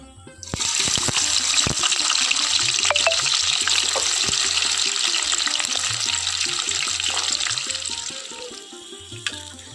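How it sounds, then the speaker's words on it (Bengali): Onion hitting oil heated on high in a pan, a loud, dense, hissing sizzle that swells in quickly and holds steady with scattered clicks and scrapes before easing off at the end. "এইদিকে পেঁয়াজটা ভাজা হতে থাক"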